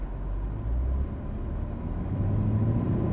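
A BMW X7 M50i V8 SUV pulling away from a standstill, heard as a low, muffled cabin rumble that swells slightly toward the end.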